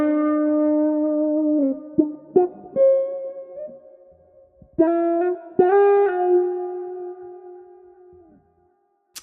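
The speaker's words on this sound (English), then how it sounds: "Now to quickly turn on the auto filter and give you an idea of how that sounds." Electric guitar through an auto filter, or auto wah, effect, with sustained notes and chords swelling and shifting in tone after each pick attack, ringing out to silence with no talk.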